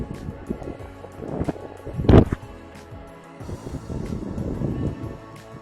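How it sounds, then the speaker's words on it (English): Wind gusting across an outdoor disc golf course, buffeting and rumbling against the microphone in uneven surges, with one sharp louder gust partway through and no talking. "But we got a wind coming through"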